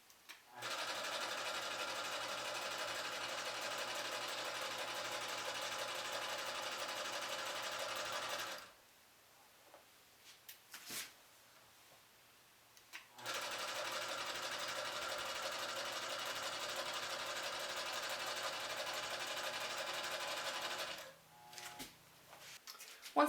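Longarm quilting machine stitching a long basting line across a quilt: a steady, even mechanical hum runs for several seconds, stops for a short quiet gap with small clicks, then starts again and runs steadily, close and clear.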